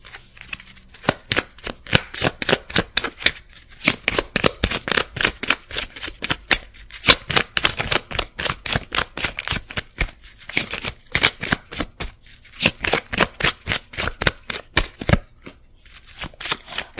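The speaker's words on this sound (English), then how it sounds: "I'm going to shuffle and pull one more." Tarot cards being shuffled by hand, rapid repeated riffling bursts in quick rhythmic runs with brief pauses between, close and crisp, no talking.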